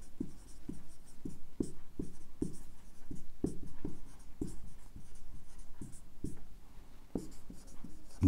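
Pen scratching across paper while notes are written, a quiet series of short irregular strokes close by.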